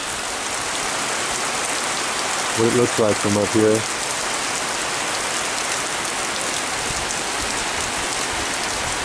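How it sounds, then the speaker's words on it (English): Dense, steady rain pours onto a deck throughout with a constant broadband hiss; a voice speaks briefly near the start over the downpour. "then it started raining, so I thought I'd just take a video"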